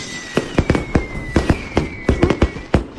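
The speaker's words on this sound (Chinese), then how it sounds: "太后生成的烟花，怎么只有烟没有花呀" Fireworks go off in quick succession, about a dozen sharp, loud bangs and crackles in an irregular rhythm, with a faint high whistle sustained beneath them and no voices.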